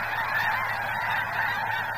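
A large flock of snow geese honks continuously at a wildlife refuge, a dense, overlapping chorus of calls that stays loud and even throughout with no speech.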